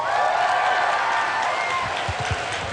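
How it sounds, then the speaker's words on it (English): Loud, continuous applause and cheering from a big crowd at a Blizzard World of Warcraft event show, with whoops and shouts rising over the clapping. "Applaud if you're from another country"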